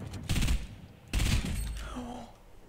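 Rifle fire in Fortnite, two loud bursts of shots about a second apart, each fading into a short tail with faint game sounds.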